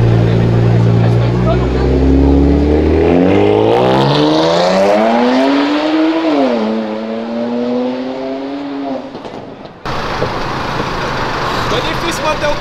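Turbo-kitted Audi S3 revving hard and accelerating, its engine note climbing through rising harmonics, then easing and dropping off sharply, with rain and people chatting nearby afterward.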